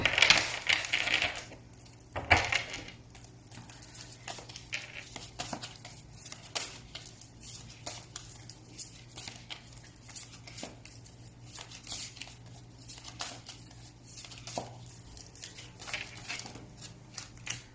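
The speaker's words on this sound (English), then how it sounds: "I feel like I need to shuffle a little bit more" Tarot cards are shuffled by hand in quiet short bursts of riffling and soft clicking taps, repeating irregularly at close range, with a louder flurry at the start.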